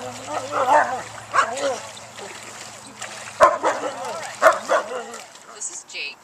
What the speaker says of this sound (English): Jake is a rescue dog.